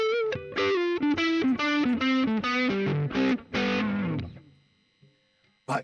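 Electric guitar played on its neck pickup alone through a Line 6 Pod HD 500X, a run of loud, distorted sustained notes stepping downward before cutting off into near silence and a brief final hit.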